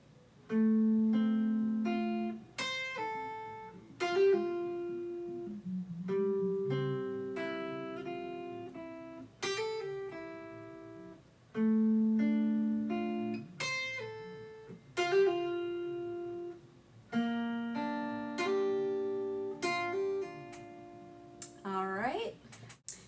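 Plucked acoustic guitar picks out a repeating melodic phrase with quick hammered-on notes, phrases separated by short pauses and ringing sustain.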